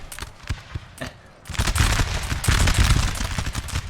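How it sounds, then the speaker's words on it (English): Prussian musket volleys in a Napoleonic: Total War 3 multiplayer battle: scattered single shots crack early on, then after a lull a loud, sustained rolling fusillade of massed gunfire takes over. "Prussia's going to get some serious volleys if they fire"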